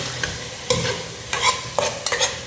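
Half a kilo of precooked beef goes into a hot pan for potato beef biryani, with a sizzle and repeated scraping stirs and clatters close up.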